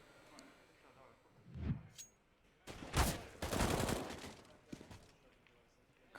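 Counter-Strike gunfire on the Inferno map during a pro match, with several bursts of rifle shots and a dense volley in the middle, fairly faint and mixed with game ambience.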